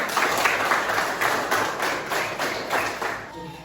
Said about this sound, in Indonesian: Kasih tepuk tangan untuk kawan-kawan.